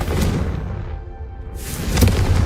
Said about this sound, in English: I think you'll find that a Confringo cast travels a bit farther than that of a spell like Incendio